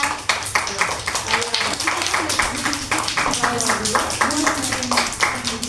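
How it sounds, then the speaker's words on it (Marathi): Children clap hands together in a steady, repeated rhythm, many hands at once, with voices mixed in throughout, during exercises at an anganwadi preschool. "परत टाळी वाजवा"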